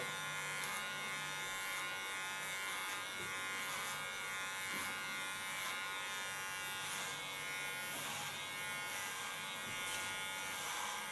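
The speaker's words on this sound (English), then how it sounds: "Guiding the hairs into the clipper." An electric hair clipper buzzes steadily and close up as it cuts hair, a continuous bright hum that holds for several seconds with small shifts in tone.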